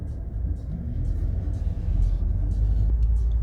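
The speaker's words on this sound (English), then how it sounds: "Ooh, that's a wonderful GTI." A white GTI passes nearby with a low engine rumble that swells and grows louder as it approaches.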